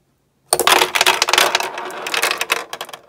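Glass marble balls scatter on a toy Pressman mini pool table after a spring-loaded break shot, a sudden burst of sharp, rapid clicking and rattling collisions that continues briefly before trailing off into scattered clacks.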